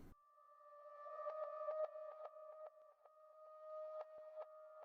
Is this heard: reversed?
yes